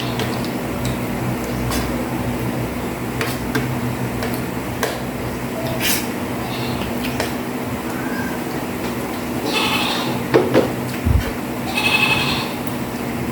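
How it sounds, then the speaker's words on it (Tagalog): Goats grazing on pasture bleat a few times against a steady noisy outdoor background, their calls brief and moderately close, with no talking. "Dalawa na po yung kambing dyan na nakapastol eh. Kaya maingay sila."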